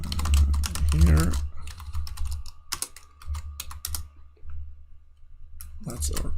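Rapid clicking keystrokes on a computer keyboard come in uneven bursts with short pauses between them, close by, while a person speaks at the start and a low hum runs underneath.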